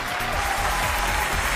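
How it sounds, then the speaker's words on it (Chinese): A studio audience at a Chinese relationship talk show applauds steadily, a dense, even wash of clapping filling the whole moment with no break. "让我们掌声有请这一对"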